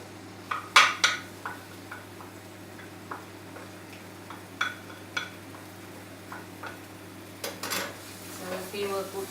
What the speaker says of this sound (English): So I'm going to put my garlic and ginger into my wok.